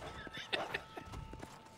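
A horse in the video game Red Dead Redemption gives short clip-clop hoof steps and a brief whinny-like snort, fairly close and moderately quiet, with light talk or game noise mixed in.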